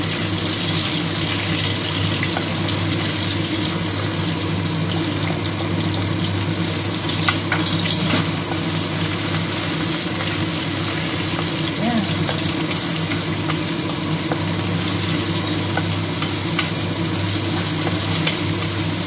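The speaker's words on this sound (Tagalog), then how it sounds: "magigisa tayo ng ating sibuyas at saka bawang" Onion and garlic sautéing in a pan for minced pork with eggplant and French beans, a loud continuous sizzle and frying hiss with low steady hum underneath, no clear breaks.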